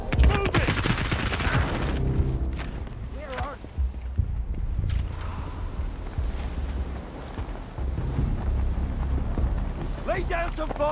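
Sustained gunfire in the CrossfireX video game campaign, loud rapid bursts and single shots with wind-like noise behind, under shouted in-game voices.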